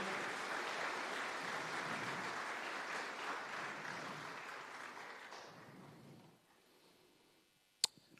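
A crowd applauds steadily for several seconds, the clapping gradually fading away, followed by a single sharp click.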